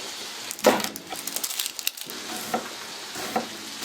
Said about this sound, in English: so you could just roughly chop it